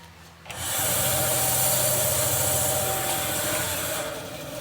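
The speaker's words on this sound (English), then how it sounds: "Right, back to the bandsaw." A bandsaw runs steadily in a workshop, its motor hum and blade whir starting abruptly after a short pause, then holding loud and even for several seconds before tailing slightly.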